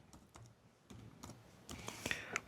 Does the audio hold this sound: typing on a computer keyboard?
yes